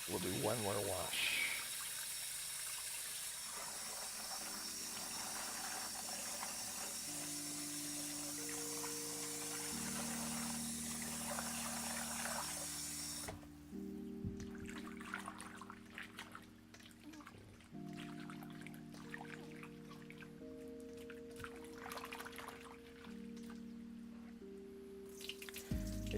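Water splashing and pouring over starchy potatoes being rinsed in a sink, a running trickle and swirling washes with a steady hum underneath, no talking.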